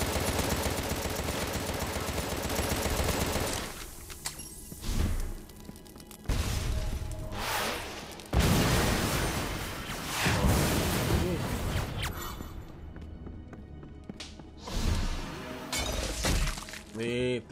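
Gunfire and shooting fill the Contra: Rogue Corps video game, a dense, loud, nearly continuous barrage of shots and crashing impacts that surges in bursts throughout.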